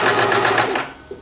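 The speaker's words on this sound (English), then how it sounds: "It's secure, just going to add a couple of stitches." A sewing machine adds a couple of stitches to fabric gloves, giving a brief close, rapid mechanical burst that stops short, with no talk.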